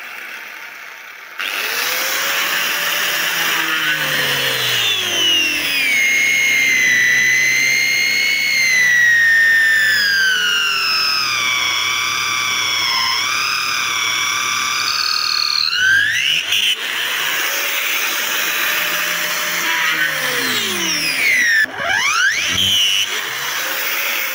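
An angle grinder fitted with a drill attachment whines loudly and steadily for over twenty seconds, with sliding pitch as the load changes, then spins down and briefly restarts near the end.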